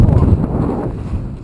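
Wind buffeting the microphone atop the Aldina fire tower, a short burst of low, rumbling gusty noise without other distinct sounds.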